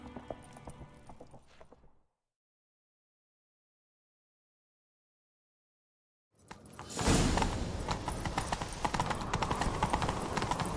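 A horse's hooves in The Witcher 3 video game pound out a galloping, rhythmic clatter that kicks in after a silent gap and continues loud and close, following faint earlier sounds.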